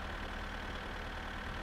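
A slow farm tractor in My Summer Car runs at a steady idle, a low, even engine drone with a faint rhythmic knock, quiet and unbroken.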